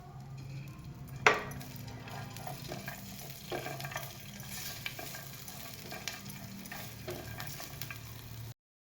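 Ginger and garlic cloves roast in a little oil in a pan, giving a soft, low sizzle with scattered scraping and one sharp clack early on, faint and close with no voices.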